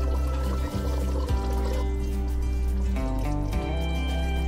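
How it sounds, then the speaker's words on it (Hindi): Hot water pours into a pot of chicken and chickpea curry, a loud, continuous close-up splash and gurgle with a couple of brief breaks in the stream. "मैं इसमें डालती हूँ गर्म पानी"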